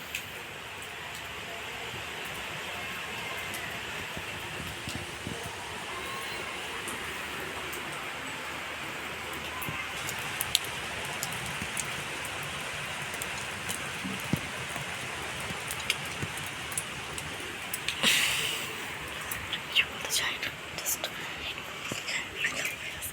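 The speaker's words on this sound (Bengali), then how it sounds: "বৃষ্টির ওয়েদার তো বেশ ভালোই লাগে দেখতে" Steady rain falls throughout in a village, a continuous hiss with scattered drops and faint background voices.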